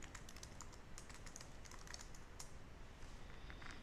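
Keys clatter steadily on a computer keyboard as admin credentials and a new password are entered, a quiet, continuous run of close clicks with no talk.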